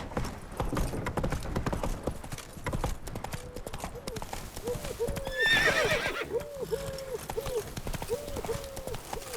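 The horse Roach gallops with a steady clip-clop of hooves and lets out a loud neigh midway, in The Witcher 3 video game, with a voice speaking over it.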